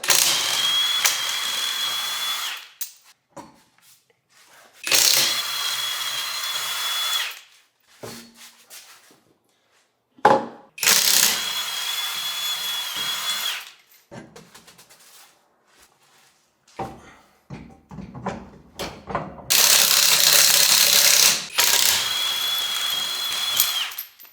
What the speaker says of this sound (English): I just torqued everything down, and we finally have the R33 wheels on the front and rear